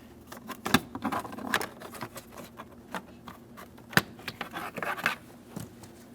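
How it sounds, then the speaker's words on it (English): A plastic dash panel on a 2005-2010 Chrysler 300 pried loose with a plastic trim tool, close irregular scrapes, creaks and sharp clip snaps, with no voices. "We're going to remove this plastic panel."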